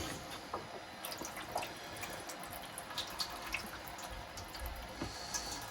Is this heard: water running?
yes